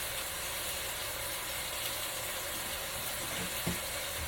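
Cabbage and potatoes cooking down in a cast iron skillet with smoked sausage, a steady soft sizzle and hiss heard up close and fairly quiet, with one small clink near the end.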